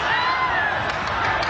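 A boxing arena crowd at a Pacquiao versus Torrecampo fight roaring and cheering continuously, a dense wash of voices with whistles poking through.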